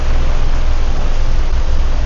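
Heavy rain pours down outdoors in Singapore, a loud, continuous, even hiss of downpour that fills the whole moment with no letup and no voices.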